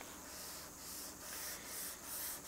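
Steady back-and-forth rubbing of 320-grit paper on a hard sanding block across a guitar body top, a continuous close hiss with gentle rhythmic swells over a few seconds.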